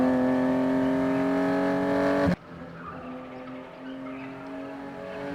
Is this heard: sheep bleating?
no